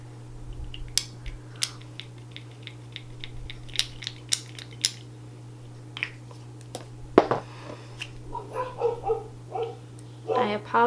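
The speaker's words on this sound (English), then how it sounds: "I apologize if you hear my dogs." Dogs indoors in a home letting out scattered, short barks and yips, some sharp and some softer, spread through the stretch over a steady low hum, with someone talking quietly between them.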